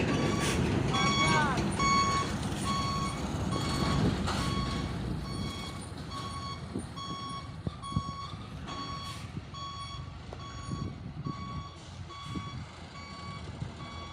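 A Fuso truck backs downhill toward a lower parking area, its reversing alarm beeping in a steady regular pulse over a rumbling diesel engine, with people talking faintly nearby.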